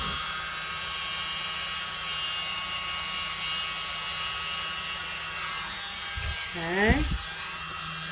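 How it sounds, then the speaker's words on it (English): A small hair dryer blows steadily on a painting, a constant buzzing motor whine throughout, with a brief spoken word near the end. "Going to get our little hair dryer."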